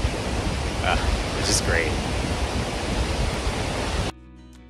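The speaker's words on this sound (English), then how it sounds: "It's so crazy to just be standing here, feeling the mist from the falls." A waterfall roars steadily near Portland, Oregon, heard up close from beside the falls as a loud, broad rushing wash, with a brief spoken voice over it before it cuts off abruptly.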